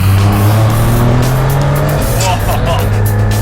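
Turbocharged boxer-engine car accelerating hard, a loud sustained engine drone that shifts pitch midway as it pulls, with a faint voice underneath.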